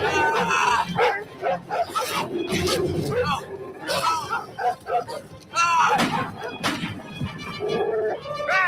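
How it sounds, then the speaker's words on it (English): Dogs bark, yip and whimper repeatedly in an SG-1 scene, loud and close, mixed with people talking over them. "Sounds like dogs."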